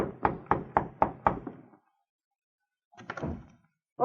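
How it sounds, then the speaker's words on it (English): Knocking on a hotel room door in an old radio drama: five quick, evenly spaced raps, a pause, then a second shorter burst of knocks, close and distinct with silence between. "the two Mounties arrived at the Victoria Hotel and knocked on the door of Norma Roswell's room."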